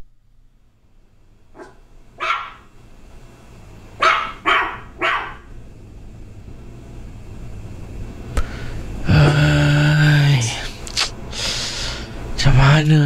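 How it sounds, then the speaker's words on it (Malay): A dog barks at night in sharp, separate bursts, a few at a time with pauses between them. A voice talks over the later part. "Sepanjang malam tak henti-henti anjing tu menyalak, buat bising"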